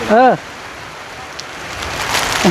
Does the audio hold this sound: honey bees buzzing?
no